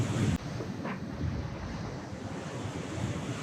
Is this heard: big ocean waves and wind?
yes